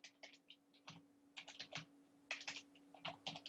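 Typing on a computer keyboard, a close, quiet patter of irregular key clicks in short bursts over a steady faint electrical hum, with no talk.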